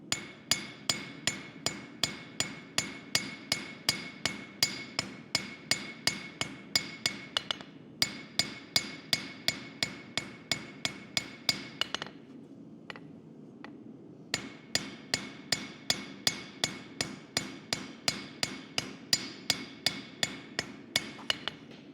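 Blacksmith's hammer strikes steadily shaping a hand-forged leaf, a long run of sharp, evenly spaced metallic blows at about two per second, with a few brief pauses, close and alone.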